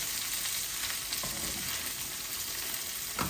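Steady, loud sizzling of dried fish frying in a hot pan, a continuous crackling hiss with a few scraping stirs, no voices.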